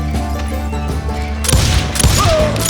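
Gunfire from hired gunmen in Call of Juarez Gunslinger: a rapid burst of loud overlapping shots breaking in partway through over a steady droning music bed, close and intense.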